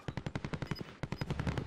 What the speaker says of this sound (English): I'm getting shot, I'm getting shot, I'm getting shot.